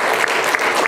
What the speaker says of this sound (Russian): Хотелось бы еще раз бурными аплодисментами сказать огромное спасибо.